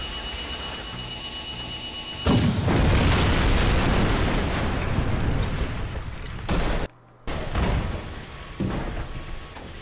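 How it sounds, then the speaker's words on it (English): A tank in the video game Jak 2 is blown up with a sudden loud boom, then a long roaring blast and crackling debris, and later a brief dropout and a second burst. "Get behind me while I toast that tank."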